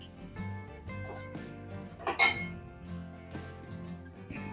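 Metal spatula clinking and scraping against a kadhai while grated carrot is stirred over a low flame for Maharashtrian gajar halwa, with light intermittent taps and one sharper clink midway.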